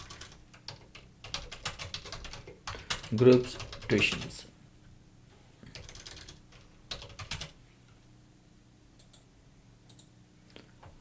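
Keys clatter on a computer keyboard as text is typed into CorelDraw, with rapid bursts of close clicking between pauses and someone briefly speaking over it.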